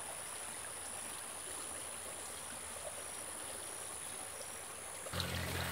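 Spring water trickles and flows from rocks into a lake in a steady, soft, continuous babble, with a faint high insect-like whine above it and a brief louder disturbance at the end.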